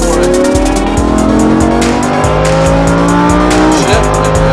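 Ferrari 488 GTB or Lamborghini Huracán accelerating hard on a track, a loud continuous engine roar with rising pitch through the gears, a brief dip near the end like a quick shift, tire noise underneath, close and dominant.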